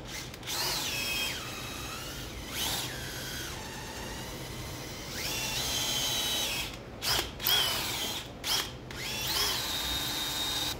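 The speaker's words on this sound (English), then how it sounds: "I'll just use the same drill bit with my drill" A power drill boring holes in knife steel for a Viking seax, a loud, close whine that rises and settles in pitch through repeated runs, with short pauses and sharp squeals between bursts.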